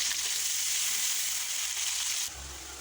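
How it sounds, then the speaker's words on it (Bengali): Chopped onions sizzle in hot oil with a steady hiss that eases slightly toward the end. "পেঁয়াজ কুচি দিয়ে ভালোভাবে ভেজে নিতে হবে তেলের মধ্যে"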